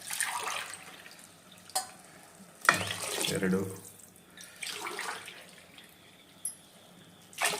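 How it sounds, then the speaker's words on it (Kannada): Water is poured into a cooking pot while preparing village-style fenugreek rice bath, giving splashy bursts of pouring that come and go between pauses while a person speaks. "3 ಗ್ಲಾಸ್ ನೀರು ಹಾಕಿದ್ವಿ. ಇನ್ನೊಂದು ಸ್ವಲ್ಪ ಹಾಕ್ತಾಯಿದ್ದೀವಿ."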